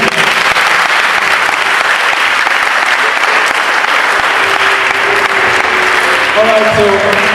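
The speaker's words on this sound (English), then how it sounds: "let's give him a huge round of applause." Large audience at a 2019 national quiz media launch breaks into loud, sustained applause, dense continuous clapping throughout with some cheering and voices mixed in near the end.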